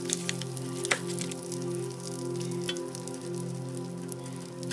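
Butter sizzling in a frying pan over a burner turned to medium high, a steady close crackle and hiss with scattered small pops, heard alone over a low steady hum.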